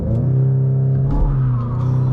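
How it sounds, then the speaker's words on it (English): A VW Golf GTI Clubsport MK8.5 on winter tires launches hard with launch control, its engine note a loud, close, droning rumble that rises briefly as it pulls away. "Let's activate launch control and see how it goes."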